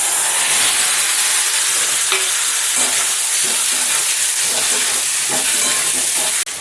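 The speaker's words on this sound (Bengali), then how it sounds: "আলুগুলো অল্প ভেজে নেব।" Half-boiled potatoes fry in oil in a wok, a loud steady sizzle and hiss with faint stirring scrapes throughout, no voices.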